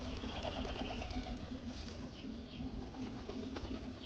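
A pigeon coos in a soft repeated rhythm close by, its low rolling calls continuing over a steady background hum.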